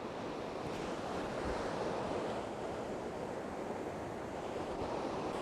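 Kapuzbaşı waterfall roaring as a steady, dense wash of falling water, constant and loud throughout with some wind noise and no voices.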